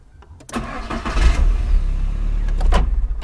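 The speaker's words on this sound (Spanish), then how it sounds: "la prueba audible para saber cuál es la marcha es la siguiente. La marcha es la que arranca el carro." A car's starter motor cranks the engine, a loud close grinding whir that begins abruptly and runs steadily for about three seconds with no speech.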